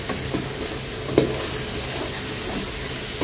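Spices for beef tehari are stir-fried in a pot, a continuous hissing sizzle with scraping stirs and one brief knock near the middle.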